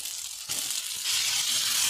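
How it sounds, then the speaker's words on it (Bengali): Fried potatoes and taro pieces dropped into a hot pan of spiced fish curry base, a sudden loud sizzle that swells and hisses steadily, close up with no voices. "আমি এখন ওই ভেজে রাখা আলু আর কচু দিয়ে দেবো।"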